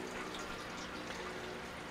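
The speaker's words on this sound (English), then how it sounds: "I'm satisfied with the flow of water." Steady, soft rush of water from adjustable pumps in a greenhouse, a continuous, even trickling flow with no pauses, fairly quiet and close.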